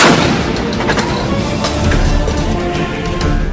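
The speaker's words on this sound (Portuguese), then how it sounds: "Atirem neles com o canhão!" Heavy booming cannon shots fire in rapid succession, loud and close, overlapping into a continuous barrage of blasts.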